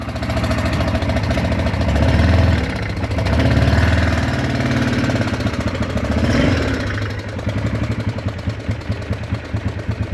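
A 1998 Yamaha Grizzly 600 4x4 ATV idles close by with its idle set poorly and a broken carburetor cable, its engine chugging unevenly and surging in slow waves before settling into a rough, pulsing rhythm.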